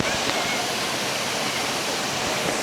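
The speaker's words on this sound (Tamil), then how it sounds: "இந்த அழகான அருவிக்கு" Gunung Pulai waterfall in Johor, Malaysia, pouring in a steady, dense roar of falling water that stays loud and even throughout, with no voices over it.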